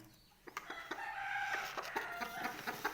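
A broody hen settled on a clutch of eggs gives a few short, soft clucks in quick succession, close by in an otherwise quiet space with no speech.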